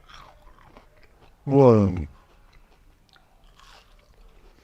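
A single loud, crisp crunch from a bite of hot fried zucchini, about half a second long, with a brief exclamation nearby and quiet surroundings before and after.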